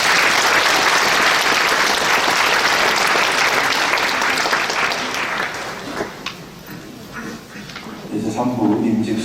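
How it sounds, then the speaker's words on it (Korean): A congregation applauds at a church retirement and ordination thanksgiving service, with loud, sustained clapping that gradually fades before a voice speaks at the end. "네, 박수로 축하드립니다."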